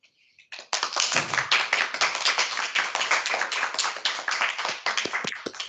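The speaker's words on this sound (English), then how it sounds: "you see all the virtual claps in the distance too" An audience at a classical archaeology summer seminar breaks into dense, sustained clapping at the end of a lecture, steady and close with no voices.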